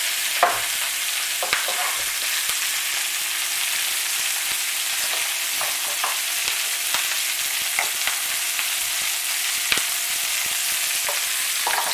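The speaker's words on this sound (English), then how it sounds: "Give it a stir, and then we're just going to let this cook for 8 minutes." Food cooks in a sizzling pan while being stirred, a constant close frying hiss broken by scattered sharp pops and clicks from the utensil and spattering oil, with no voices.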